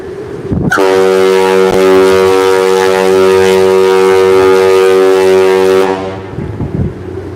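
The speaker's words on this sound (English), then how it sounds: "the horn is right up there in the stack" Deep, loud foghorn blast from the funnel stack of the cruise ship NCL Aqua sounding in fog, one long sustained tone held for about five seconds before cutting off, with steady wind noise from 30-knot gusts around it.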